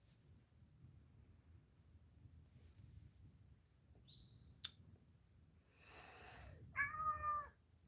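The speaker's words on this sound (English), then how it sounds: "What are we meowing about?" A cat meows from close by outdoors on a hot day, two or three short voiced calls near the end after a long stretch of quiet ambient hum.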